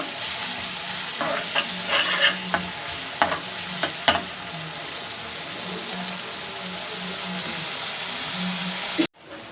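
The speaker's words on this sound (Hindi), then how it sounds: "ये 1 मीडियम साइज़ की प्याज जो कि मैंने आपको बताई है, इसको मैं थोड़ा सा फ्राई कर लूँगी।" A medium onion frying in hot oil until translucent, a steady close sizzle with a few light spatula taps and scrapes early on, ending in a sudden cut.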